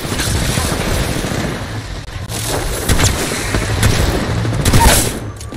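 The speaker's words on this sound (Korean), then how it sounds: "지금 나한테 총 쏘는 거야?" Video game gunfire rattles in fast, dense bursts with heavy booms underneath, loud and close throughout, with a couple of sharper shots standing out near the end and occasional voices in the mix.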